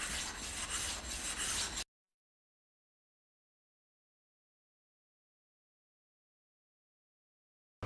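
A Japanese knife-sharpening stone is flattened by rubbing it against another stone, making a rough, gritty scraping burst for about two seconds, followed by silence.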